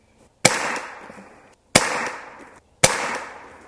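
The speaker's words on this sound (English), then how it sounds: "Let's see what these AEAs do. I'm going to shoot that center right target." Three sharp shots from an FX DRS Classic .22 air rifle firing AEA pellets in a backyard, each a loud crack with a short ringing decay, spaced about 1.2 seconds apart.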